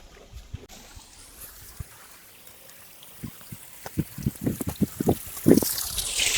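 Water near a temple trickles and drips in faint scattered spatters that grow busier and louder toward the end, with no talking.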